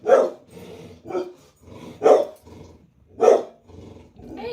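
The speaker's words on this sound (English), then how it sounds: "I'll let my dog bark." A pet dog in a home art studio barks and growls in repeated loud, close bursts about once a second, with low rumbling growls between the barks and no speech.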